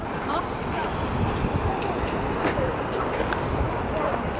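Ocean waves wash against the rocky coast and beach below Bixby Creek Bridge on a foggy, cold day, a steady broadband surf roar mixed with wind buffeting the microphone, continuous and fairly loud throughout.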